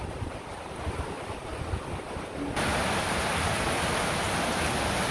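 Strong wind blowing from the north during a village rainstorm, a steady broadband roar with gusty swells that grows louder and denser partway through, with no voices.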